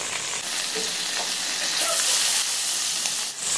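Garlic and green chili sizzle in hot oil for mushroom pasta, a steady close crackling hiss that swells slightly midway, with no talking over it.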